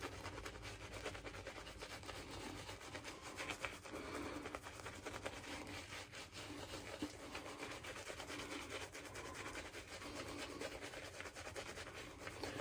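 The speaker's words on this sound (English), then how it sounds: "So now I distribute the paste on my face, as always." Shaving brush scrubbing soap paste over a bearded face, a continuous soft bristly rubbing that runs steadily and close throughout, quiet and with no speech.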